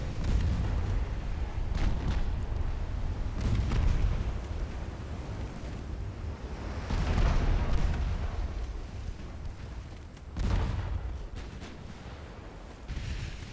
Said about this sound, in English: Caused an explosion on the Istamen.